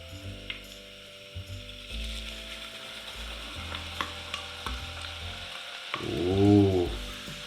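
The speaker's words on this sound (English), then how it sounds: "So now, let's put the chili flakes." Chili flakes dropped into hot garlic oil, a steady frying sizzle with light stirring scrapes that swells into a louder crackling burst near the end, no voices.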